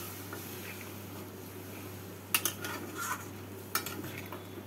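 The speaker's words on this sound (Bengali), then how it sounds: "দুধ দিয়ে নাড়াচাড়া করে 2 মিনিটের জন্য ঢাকা দিয়ে রেখে দেব" Ridge gourd curry with milk stirred in a pan, with faint scraping and a few light clinks of a utensil against the pan over a steady low hum, quiet and close, with no talking.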